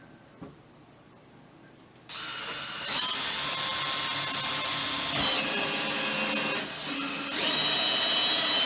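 A power drill bores into an oak drawer part with a rising, steady whine that grows louder after a quiet start, dipping once briefly before continuing strong to the end.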